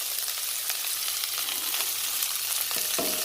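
Chilies hit a pan of sautéing tofu, broccoli and mushroom, a steady close sizzle and hiss with a few light clinks near the end, no voices.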